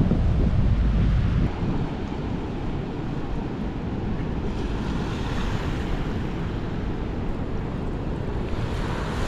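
Waves rolling onto a beach in Guam, a constant heavy roar of surf mixed with wind buffeting the microphone, loudest in the first seconds. Nobody speaks.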